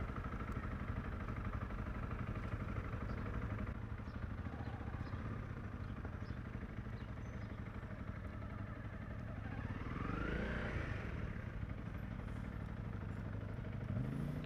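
CFMoto 450 MT motorcycle engine running steadily on a South African mountain pass ride, a constant mid-pitched drone that rises in pitch near the end as it revs up.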